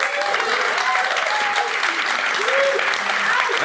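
A studio audience at a comedy show applauding a comedian, with dense, steady clapping at close range throughout and a few shouts mixed in.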